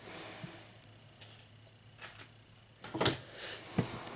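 A hand nipper tool snips through craft wire on a wired ribbon, giving a few sharp, quiet clicks with short pauses between them.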